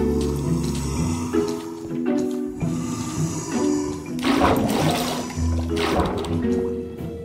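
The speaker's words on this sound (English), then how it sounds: "I'm gonna drop some water right there." Water gushes and splashes steadily from a bucket poured in the Minecraft video game, a continuous loud rushing pour with swelling bursts of splashing throughout.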